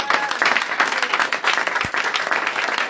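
A church congregation breaks into lively applause for Jesus during a sermon, many hands clapping densely and continuously at close range for a few seconds.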